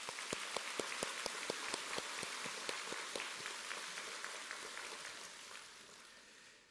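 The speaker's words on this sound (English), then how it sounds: "I hope that you will join me in just giving them a warm applause for all their achievements." An audience at a university awards ceremony claps faintly. The sparse, evenly spaced claps thin out and fade away.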